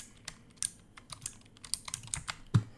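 Computer keyboard keys are pressed while setting game controls, an irregular run of close, crisp clicks with one heavier thump near the end, and nobody speaking.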